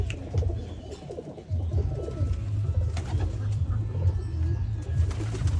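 Pet pigeons coo in a steady low murmur, many birds together close by in a loft, with occasional small knocks and rustles around them.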